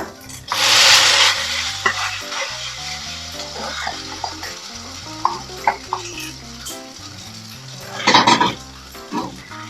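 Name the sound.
stir-frying rice noodles in a pan for pad thai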